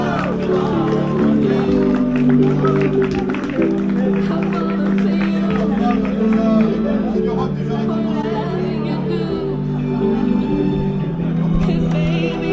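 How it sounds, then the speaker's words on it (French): Spectators at a half marathon in the Bois de Vincennes applauding a finisher, steady clapping and cheering under an announcer's voice over background music. "Allez, on applaudit Mickaël."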